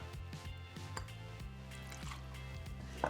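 One and a half ounces of tequila poured into an iced cocktail glass makes a faint, steady liquid trickle with soft drips, quiet and close, with no one speaking.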